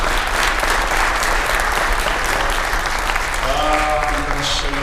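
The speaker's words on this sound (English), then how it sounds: "not everybody clapped" Audience applause fills a staff inservice keynote hall, a dense, loud, continuous clapping from a large crowd, with a voice beginning to speak near the end.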